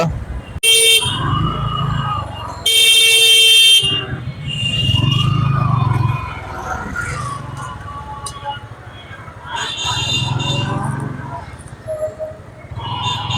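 A car horn blares loudly in busy road traffic with auto-rickshaws, with two long honks near the start, while a voice talks between the blasts over a low hum of passing vehicles.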